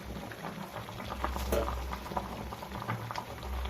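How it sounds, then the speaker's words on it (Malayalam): Tuna fish curry in the Kerala style, made with kerachhora, bubbles in a covered pot with a steady, muffled boiling patter and no talk. "തിളച്ച് വന്നുകൊണ്ടിരിക്കുന്നു"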